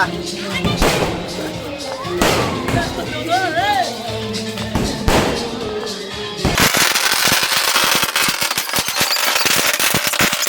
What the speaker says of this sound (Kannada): ಬ್ಲಾಸ್ಟ್ ಆಗುತ್ತೆ ಈಗ.